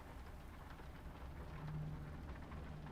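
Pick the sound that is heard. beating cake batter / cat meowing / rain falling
rain falling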